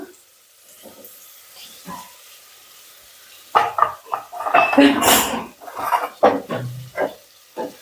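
Tomatoes go into a hot pan while cooking aloo bath, giving clattering spoon-and-pan knocks and stirring with brief sizzling bursts, loud and close, after a quieter stretch of faint kitchen sounds.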